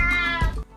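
A basenji dog gives a short, cat-like meow instead of a bark, a single close, tonal whine lasting under a second, heard alone.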